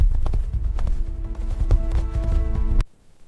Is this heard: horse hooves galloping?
yes